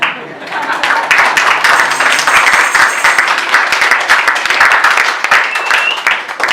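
A church congregation bursts into loud, uneven clapping, a dense burst of many hands that stays strong throughout with voices mixed in.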